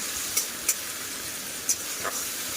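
Spices with turmeric, sugar, salt and tomato being fried in a pan, a soft steady hiss with a few faint clicks of stirring, fairly quiet and without voices.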